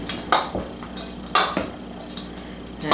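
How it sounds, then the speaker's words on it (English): A spoon scrapes and clinks through a sausage-link and onion mixture in a casserole dish, with several short knocking and scraping bursts at an uneven rhythm over a quiet background. "I'm going to mix all this around."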